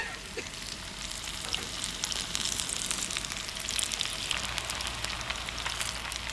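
Sweet potato fritters frying in hot oil, Korean style, a steady, close crackling sizzle that runs evenly with no voices.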